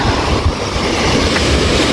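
Sea waves wash steadily at a rough, choppy beach near Chania, a loud continuous surf roar mixed with wind buffeting the microphone, with no talk.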